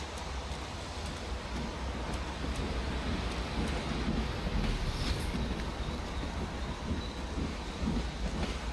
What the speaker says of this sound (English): He got on the train.